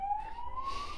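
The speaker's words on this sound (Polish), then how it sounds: "sorry za syrenę" Emergency vehicle siren passing outside, a single rising wail heard faintly through the walls of a room over low background noise.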